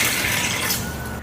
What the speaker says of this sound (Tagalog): So, dagdagan natin ng hindi mainit na water.